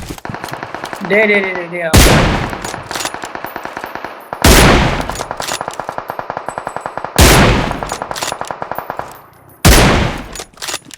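Loud, rapid automatic gunfire in the BGMI mobile shooter: several sustained bursts of fast, rattling shots, each opened by a heavy blast, with someone shouting excitedly between and over them.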